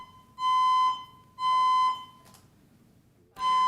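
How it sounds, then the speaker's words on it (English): Fire alarm sounding during a city council meeting, a loud, steady electronic tone pulsing in three long blasts about a second each with short gaps between, alone without talk. "Looks like we have a fire alarm."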